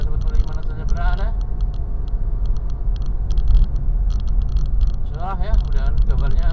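Cars speeding along a road, caught from inside a moving car as a steady low rumble of passing traffic and engine noise, with someone talking intermittently over it.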